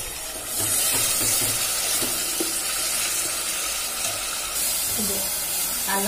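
Onion, tomato and ginger-garlic paste fry in a pan for omelette pulusu with a steady, close hissing sizzle and bursts of steam. Spoon strokes stir the mixture at intervals, and a voice speaks briefly now and then.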